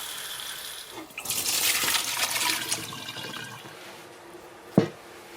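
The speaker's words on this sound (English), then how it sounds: "Give the vegetable a good rinse and strain the water off." Chinese leaf cut for soup gets a rinse under running water and is then strained, with a burst of rushing, splashing water that fades into dripping and ends in a sharp knock.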